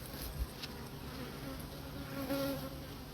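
Honey bees hum inside an opened hive, a quiet, steady buzzing drone with a few individual wingbeats rising faintly above it.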